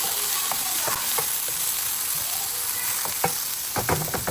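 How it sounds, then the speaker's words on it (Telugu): Onion and tomato frying with ridge gourd in a pan, a steady loud sizzle with occasional scraping stirs toward the end. "టొమాటో కూడా వేసేసుకోండి దీంట్లో"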